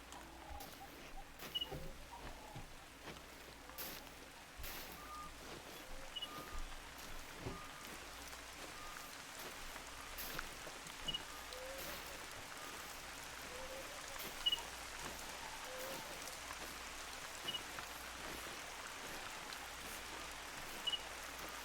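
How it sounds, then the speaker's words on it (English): Steady rain in the video game theHunter: Call of the Wild hisses continuously with scattered drips and faint splashes, a soft, even wash of falling water throughout. "the rain will cover my approach a little bit here."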